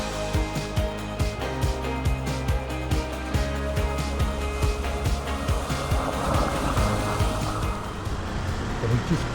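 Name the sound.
4WD vehicle crossing Waterfall Creek water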